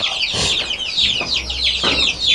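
Chickens cluck and squawk close by in a coop, several birds calling over one another in quick, overlapping bursts.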